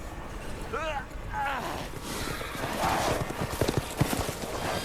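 Horse hooves clip-clop in Resident Evil Village, mixed with neighing and busy game ambience, while someone talks over the scene.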